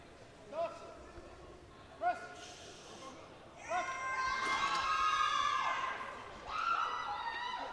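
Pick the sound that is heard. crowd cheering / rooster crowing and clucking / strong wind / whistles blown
crowd cheering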